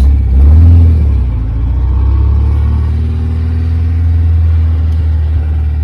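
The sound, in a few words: Austin Healey original 4-cylinder engine running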